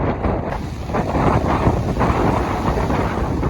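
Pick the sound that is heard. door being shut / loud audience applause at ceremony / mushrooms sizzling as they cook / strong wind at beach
strong wind at beach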